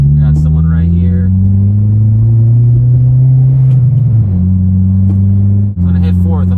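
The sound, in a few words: Honda Civic Si with aftermarket exhaust accelerating through gears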